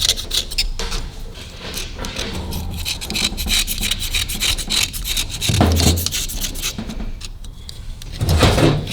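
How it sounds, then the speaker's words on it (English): A knife scrapes built-up carbon from a Harley piston ring groove, continuous close gritty rasping and scratching strokes with a few louder scrapes near the end. "So scrape the carbon out of here so we can pass it through okay."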